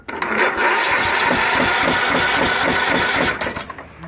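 A Husqvarna YTH21K46 riding mower engine cranks continuously for several seconds with a rapid, rattling starter rhythm, never catching or firing, close and loud before winding down.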